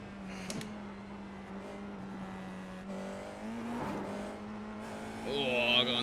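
A Formula 4 race car at Mount Panorama, Bathurst, in a VR racing game: a steady, close engine drone that climbs in pitch as it revs, with a brief tyre squeal toward the end.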